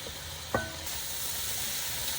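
Cut vegetables sautéing in a pan, a quiet steady sizzle with one brief clack of a utensil near the start, close and without talk.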